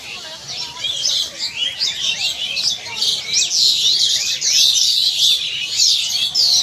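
A dense chorus of birds chirping and twittering in a Japanese garden in Kolkata in the afternoon, loud, continuous and lively throughout.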